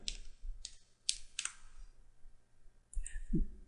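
Keys on a computer keyboard click in a few separate presses during router setup, the last a firmer press like Enter, each sharp and close with short quiet gaps between.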